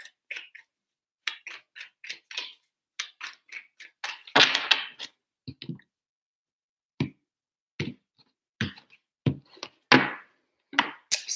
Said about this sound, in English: 3 shuffles for Gemini.